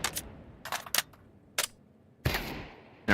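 Rifle fire in Counter-Strike 2, sharp separate shots and short bursts cracking out at irregular intervals with quiet gaps between, loud and close, ending in a heavier burst.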